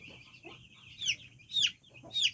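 Chickens on a poultry farm cluck and squawk nearby, with three loud rising calls over a low murmur of softer clucking in the background.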